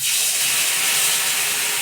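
Spice paste mixed with water hitting hot oil in a pan, giving a loud, steady steam-like hiss that carries unbroken from start to end.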